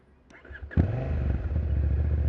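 A Husqvarna Svartpilen 801 motorcycle engine fires up after a brief clatter and settles into a loud, steady rumbling idle close by.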